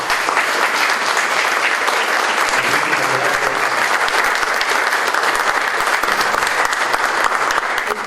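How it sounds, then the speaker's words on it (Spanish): Dense, sustained applause from a conference audience for a panel of speakers, loud and continuous throughout. "Pues un aplauso para nuestros panelistas."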